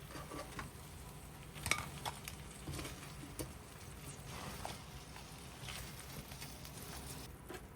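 Shrimp cooking in a frying pan (kawali) with oil, heard as steady clinks and scrapes of a utensil against the pan over a low background hiss, with a few sharper knocks.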